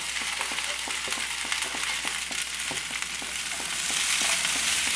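Potato and okra stir-frying in a pan on high flame give a steady, bright sizzle, while a spatula scrapes and taps in a quick, regular rhythm close by; no talking.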